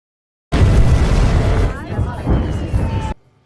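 Explosions from fighter planes bombing during a World War II scene in the film Flight, a loud sustained rumbling blast with a second surge partway through, cut off abruptly, with voices mixed in.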